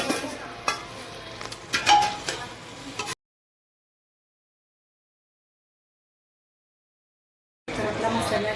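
Masala for chicken biryani stirred in a pan, with spoon scrapes and a light sizzle over about three seconds, then silence, then more frying and clatter near the end.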